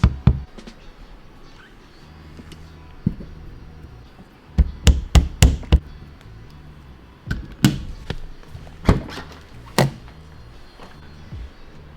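Light tool taps on a trim piece at the hatch of a VW GTI, several sharp knocks in irregular bursts over a low background hum, close by.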